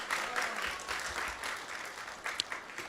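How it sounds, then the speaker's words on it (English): Soft, distant applause from an audience at a Krishna Katha religious talk, a faint, steady patter of clapping that carries on for a few seconds. "So let's give him a big round of applause and thank him."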